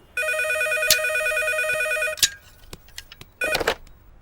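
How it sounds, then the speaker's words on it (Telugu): Telephone ringing in a room in a comedy film scene: a loud electronic ring in two long bursts separated by a pause, with scattered clicks and knocks between them. "ఈసారి ఫోన్ మోగుతుంది మన రూమ్ లోనే"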